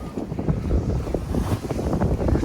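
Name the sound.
wind blowing on a sailboat at sea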